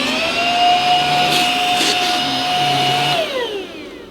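A Simplicity S65D cordless vacuum cleaner runs on carpet with a loud, steady, close motor whine and airy rush that wavers slightly, then drops in pitch and fades as it powers down.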